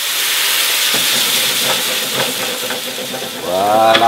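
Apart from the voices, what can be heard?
veal stock hissing as it deglazes the hot pan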